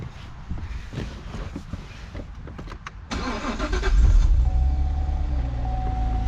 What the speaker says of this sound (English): Gonna start up the car.